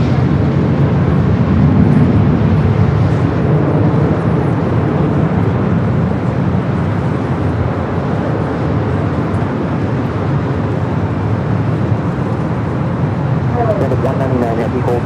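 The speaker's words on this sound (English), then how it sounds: "we got Emirates A380 Super heading up here for a north side" An Emirates Airbus A380 takes off from the north side runway at Los Angeles International Airport, a loud, sustained low jet roar that holds steady and slowly eases, with faint higher sounds near the end.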